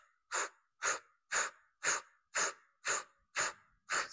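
Short, sharp staccato breaths during a plank exercise, eight forceful puffs in an even rhythm about half a second apart, close and alone.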